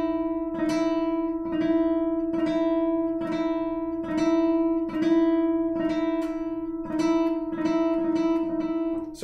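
Classical guitar notes plucked with planted fingers in a technique drill, a repeating group of three ringing notes sounding again and again at an even, steady pace, clear and close with no talking.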